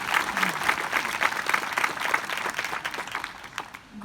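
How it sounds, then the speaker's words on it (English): Audience at a 2019 Ashland high school graduation ceremony applauds its student speakers, a dense, steady wash of many hands clapping that holds evenly throughout and eases slightly at the end. "One more round of applause for our student speakers."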